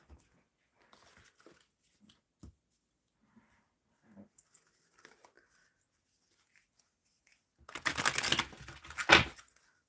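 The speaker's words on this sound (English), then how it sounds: "I am shuffling for the collective" Tarot cards being shuffled by hand, a quiet stretch of faint handling rustles followed by a dense, crisp riffling burst near the end.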